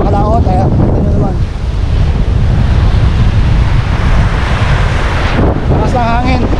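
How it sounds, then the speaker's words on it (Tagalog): Strong wind gusts across the sea on a stormy day of lure fishing, roaring loudly and continuously into the microphone and buffeting it, with surf churning underneath and a voice breaking in briefly near the beginning and end. "lakas ng hangin"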